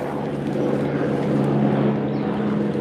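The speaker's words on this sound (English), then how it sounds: "Oh, helicopter going ahead." A helicopter flies overhead in a garden, its steady low engine and rotor drone loud and continuous through the whole stretch with no talking over it.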